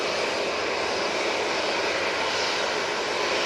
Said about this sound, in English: That EasyJet's off to Palma.